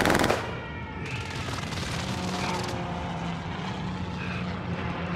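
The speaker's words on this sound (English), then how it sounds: "Enemy precision airstrike" An enemy precision airstrike hits in Call of Duty's Pacific warzone, with a loud opening blast giving way to roaring aircraft engines and a sustained rattle of gunfire.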